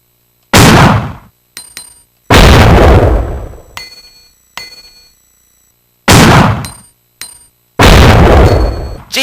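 Silenced Magnum shots in Resident Evil 2, four loud, heavy blasts spaced a couple of seconds apart, each a sharp crack decaying into a long ringing tail, with metallic clicks of handling between them.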